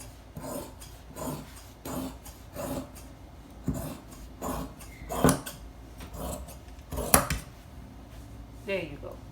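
Scissors cut out a fabric pattern piece for a half circle wrap dress, making repeated scraping snips in an uneven rhythm, close by, with some handling noise between the cuts.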